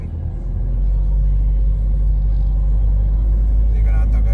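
Car driving through light city traffic among tall buildings, a steady low engine and road rumble that holds at an even loudness, with faint traffic noise above it.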